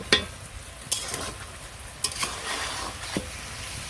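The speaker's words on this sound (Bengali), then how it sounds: "আর সাথে নাড়া রাখতে হইব নাড়া চাড়া না দিলে আবার তলের থেকে গুড়ের থেকে তলে লেগে যাইতে পারে" Raw mango pickle with melting jaggery is stirred in a pan, a steady close sizzle broken by several spoon scrapes against the bottom.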